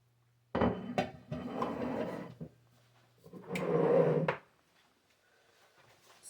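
A plate taken out of a kitchen cupboard, heard as a sharp knock followed by clattering and scraping of crockery, then a second rattling handling sound before it goes quiet.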